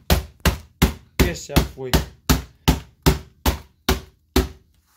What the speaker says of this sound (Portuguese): Ver o que é que acontece com uma martelada bem dada.